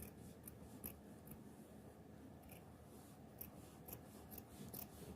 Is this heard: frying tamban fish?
no